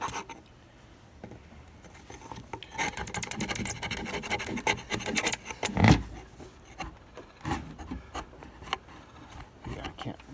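A tool scrapes wood and blue paint out of a Fender Squier guitar body in uneven, rasping strokes up close, with bursts of harsher scratching and brief pauses between passes.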